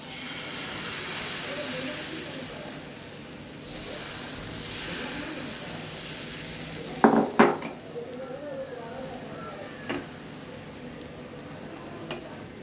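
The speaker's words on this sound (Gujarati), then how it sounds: "તૈયાર કરેલું મિશ્રણ આપણે તવા ઉપર નાખીશું" Besan pudla batter sizzles steadily on a hot, oiled tawa, a soft continuous frying hiss broken midway by a few sharp clinks of a metal spoon or utensil.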